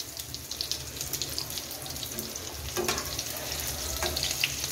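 Egg-coated beef boti kebabs fry in a pan with a steady, moderately quiet sizzle and crackle, a few sharper pops over the continuous hiss.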